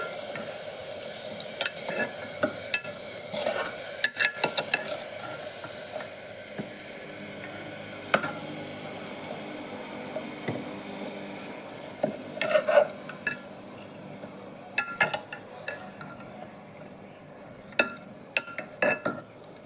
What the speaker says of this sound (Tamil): ரெண்டு நிமிஷம் நல்லா வணங்கி வரட்டும் காய்